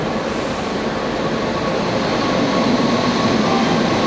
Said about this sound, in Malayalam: അപ്പുറത്ത് കൂടെ നേരത്തെ പറഞ്ഞാൽ പട്ന എറണാകുളം വരുന്നുണ്ട്